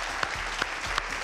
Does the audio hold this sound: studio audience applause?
yes